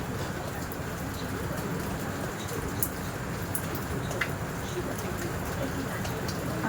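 Rain falls steadily outdoors under a cloudy sky, a continuous even patter with faint bird cooing and a few brief higher ticks over it.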